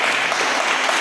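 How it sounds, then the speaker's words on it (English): A church congregation claps together during a sermon, a brief, loud and dense burst of applause filling the room. "Let's clap for God, my son."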